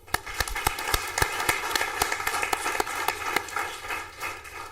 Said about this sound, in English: Round of applause for Lauren